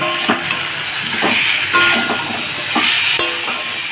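A spiced paste of mustard, ginger and green chili with salt, turmeric, cumin and coriander powder fries in a pan, a steady close sizzle broken by repeated scrapes and clinks of the spatula stirring.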